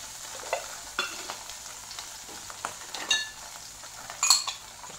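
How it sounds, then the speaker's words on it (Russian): Horseradish frying with browned meat patties in a pan, a steady low sizzle broken by several sharp clinks and scrapes of a utensil against the pan, loudest near the end. "И теперь добавляем туда хрен."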